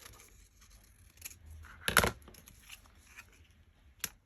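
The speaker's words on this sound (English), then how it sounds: "So what I might do is I'm going to cut a piece of that off" Scissors cut through a scrap of card stock, one crisp snip in the middle, with faint paper rustling and small handling taps around it, close and quiet.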